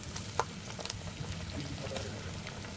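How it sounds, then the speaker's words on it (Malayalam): Ginger pathiri, a Malabar flatbread, frying in hot oil, giving a steady low sizzle and bubbling with a few sharp clinks and pops near the start, close and moderately loud. "ഇതുപോലെ നമുക്ക് ബാക്കിയുള്ള പത്തിരികൾ കൂടെ ഫ്രൈ ചെയ്യാം"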